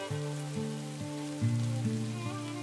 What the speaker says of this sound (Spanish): Y mientras la lluvia seguía golpeando contra las ventanas, Diana avanzó sin ningún remordimiento.